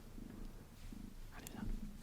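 A rescued cat purrs close up on a desk, a steady low rumble running softly through the whole stretch with small shifts in intensity and no one speaking.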